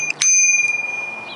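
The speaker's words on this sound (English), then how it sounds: "And of course I can hit the bell" A thumb-struck bell on an Ital-Jet Diablo e-bike gives one bright, close ding that rings on and slowly fades, with a faint tap just before it.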